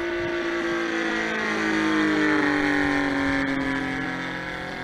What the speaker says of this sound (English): this engine flies this model with great authority